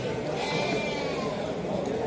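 Lambs bleat in a dense, overlapping chorus, a steady wavering noise from many animals nearby among sheep.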